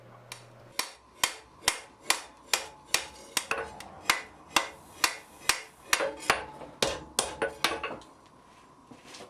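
Hammer blows shaping the bits of blacksmith tong jaws, about twenty sharp metallic strikes in a steady rhythm, close and loud, ringing briefly between hits with no talk.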